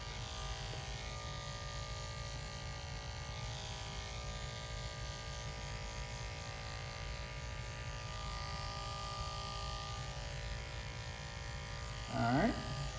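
Electric hair clippers with detachable blades run in a steady, continuous buzz while fading hair at close range, with a brief louder scrape of handling near the end.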